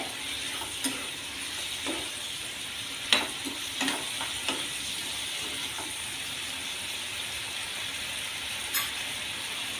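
Cooked raw banana being sautéed and stirred in a pan gives a steady low sizzle, broken by a few sharp scraping clicks of the spoon against the pan.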